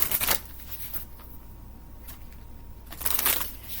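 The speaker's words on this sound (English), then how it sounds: "Let me give this a shuffle." A deck of cards riffled and shuffled nearby, with crisp fluttering bursts at the start and end and softer handling sounds between, no talking.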